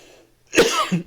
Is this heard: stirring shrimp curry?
no